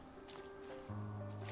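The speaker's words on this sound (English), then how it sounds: "And the water is seeping through the cracks" Water drips and trickles through cracks in a cavern ceiling beneath a great lake in Hollow Knight, soft wet plops over a low droning ambient hum that swells partway through, with no voices.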